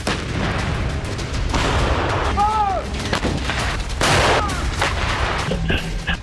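British Army tanks and artillery fire during a winter military exercise in Lapland, Finland, a dense series of heavy booms and cracks echoing across open terrain, layered with rumbling reverberation and brief higher whistles.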